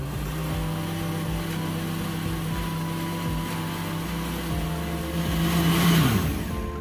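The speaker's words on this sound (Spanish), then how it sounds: "Y vamos a licuar nuevamente." A kitchen blender whirring nanche fruit with condensed milk, sugar and vanilla, a steady loud motor hum that holds its pitch, then surges and shifts near the end.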